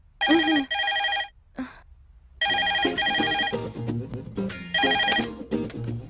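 A telephone rings in repeated electronic bursts with short gaps, loud and close, followed by a stretch of ringing mixed with other sounds.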